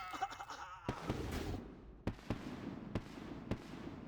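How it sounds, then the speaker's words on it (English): A RuneScape bombardment attack crackles like fireworks, with a burst of sparkling pops followed by several sharp, separate bangs over a faint crackling tail, all fairly quiet. "I hate the bombardment skill because it sounds like the level up fireworks"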